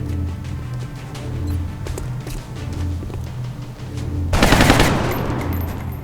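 Close-range gunfire in XCOM: War Within bursts out as a loud, dense rattle near the end, following a stretch of steady game ambience and rhythmic low thumping.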